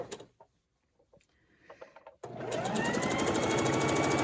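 A sewing machine stitches a Christmas table runner, starting abruptly after a few light handling clicks and then running continuously with a fast, even mechanical whir and rapid needle rhythm, close and clear.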